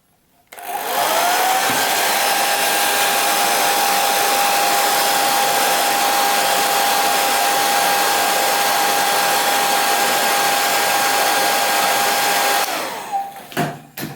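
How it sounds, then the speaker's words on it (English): A hair dryer heating glue on a Lytro light-field camera whirs loudly and steadily for about twelve seconds with a constant high whine, then switches off and winds down. "I'll probably use hair dryer to get it loosened."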